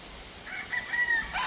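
A young stag rooster crows once, a short, slightly distant call rising out of quiet background.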